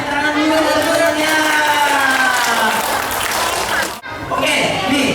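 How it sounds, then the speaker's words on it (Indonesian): Group of children applauding during a visit to a fire station, a dense burst of clapping near the listener with chatter mixed in, briefly cut off before resuming. "Oke, tepuk tangan dulu teman-temannya."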